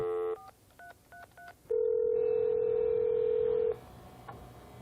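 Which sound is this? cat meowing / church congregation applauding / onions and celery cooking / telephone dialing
telephone dialing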